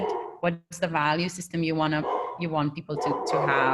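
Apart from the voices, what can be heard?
dog barking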